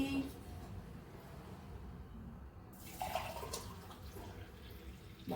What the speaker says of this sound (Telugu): దీంట్లో హాట్ వాటర్ వేస్తే ఫ్రెష్ రెడీ